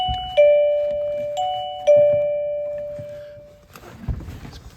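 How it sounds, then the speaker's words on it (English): SUNUPELEC wireless long-range doorbell receiver chiming three times: clear electronic ding-dong tones, each ringing out and decaying, close and alone, followed by a soft thunk of handling. "you've got an ability to change the chimes and make the sound louder or quieter"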